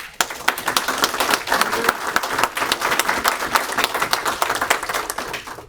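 An audience at a governor's event on drinking water and wastewater projects claps steadily and fairly loudly, dense overlapping hand claps sustained throughout.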